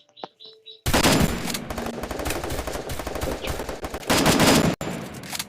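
Rapid automatic gunfire erupts in an online shooter game, loud sustained bursts of overlapping shots after a brief quiet start, with a short pause before firing resumes.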